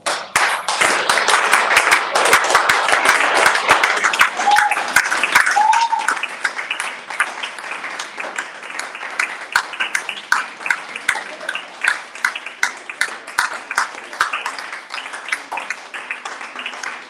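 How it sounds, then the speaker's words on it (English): Audience claps at a live meet-and-greet event for Acabado Products International, a dense burst of applause that thins into scattered individual claps over several seconds, with brief voices and a whistle-like cry early on. "Please clap for me."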